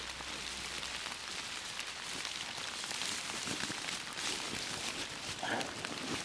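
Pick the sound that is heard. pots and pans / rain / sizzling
rain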